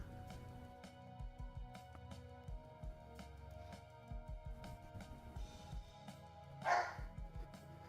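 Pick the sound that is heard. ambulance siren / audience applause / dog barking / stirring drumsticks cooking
dog barking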